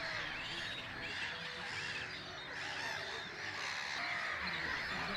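Gull colony in the Bay of Somme in spring during breeding season, a dense continuous chorus of overlapping calls and cries, steady and fairly loud throughout with no talk.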